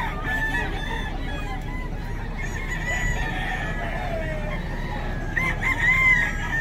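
Roosters and chickens at a busy poultry market in Bocaue crow and cluck close by over a constant bed of crowd chatter and market bustle.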